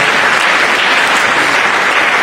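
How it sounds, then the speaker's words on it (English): Audience at a conference and career fair breaks into loud, dense applause, a continuous roar of many hands clapping that fills the hall evenly from start to finish. "Let's give him a round of applause."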